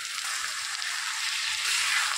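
Sabudana khichdi sizzles in a hot pan as it is stirred, a steady bright frying hiss, close and continuous, with faint scraping of the mixing underneath.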